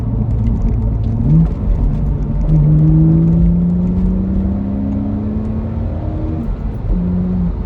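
A BMW E85 Z4 with the N52 engine and a sound generator mod pulls at full throttle, its engine note sweeping steadily upward in pitch through the gears, loud and close with a constant rumble underneath.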